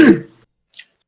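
One short, sharp sneeze from a person nearby at a tabletop role-playing session, followed by a faint breathy sound and silence.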